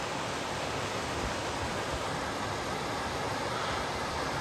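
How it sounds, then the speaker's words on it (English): Small waterfall at Joaquin Falls in New Mexico: a steady, unbroken rushing hiss that holds at an even level throughout, with no voices over it. "Cool little waterfall"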